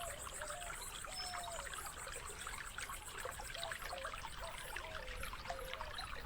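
Spring water trickles and babbles in the video game Rosewater, a quiet, steady stream with small gurgles and drips, alone and close throughout.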